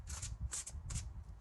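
Oracle cards being shuffled by hand in a few quick riffling bursts, soft and close, brief and quiet, with no one talking.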